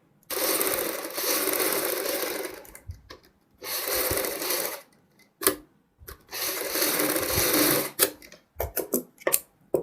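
A sewing machine stitches a kurti front neck piece in bursts of steady mechanical whirring, three long runs separated by pauses and short clicks of the needle and handwheel, close and alone.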